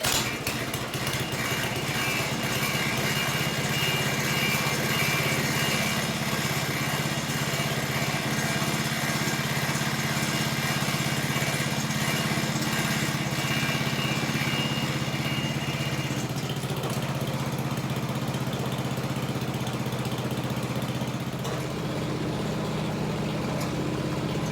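A Craftsman 1150 27-inch snowblower engine runs steadily and loudly throughout, a continuous small-engine drone that shifts slightly in tone partway through, with no talking.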